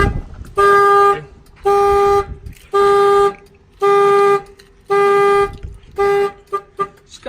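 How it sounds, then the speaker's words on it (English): A Chevy Express van's car alarm sounds in six loud, steady horn-like tones of about a second each, separated by short gaps, followed by a few quicker chirps. "If somebody opens the door, of course, it's going to fire the alarm."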